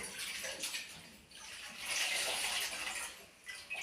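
Water pours and splashes as a soaked cotton cloth is squeezed out over a container in a children's preschool activity, a steady wet trickle rising to a louder gush midway, close and without talk.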